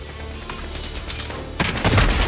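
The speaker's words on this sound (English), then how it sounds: "I'm just gonna flashbang myself" A flashbang grenade bursts in a Call of Duty-style shooter, a sudden loud bang cutting through low background game noise about midway through.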